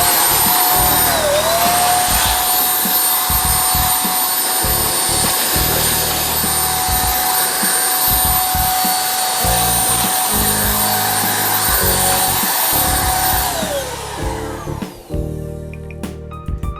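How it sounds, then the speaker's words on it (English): A small electric blower aimed at a 2011 iMac A1312 screen, a loud steady high-pitched whine with a rushing airflow roar that holds for about thirteen seconds, then spins down and cuts off. "So let's go ahead and blow off the screen."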